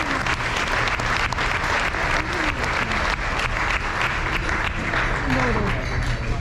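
Sustained audience applause fills a senior awards ceremony hall, steady and dense throughout, with a faint tone in the background.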